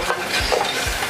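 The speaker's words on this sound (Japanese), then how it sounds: "これをよくある程度炒めるんですね。 スパイスも一緒に。" Dry curry being stir-fried in a pan with turmeric, allspice and curry powder makes a close, steady rushing sizzle, broken by soft scraping stir strokes.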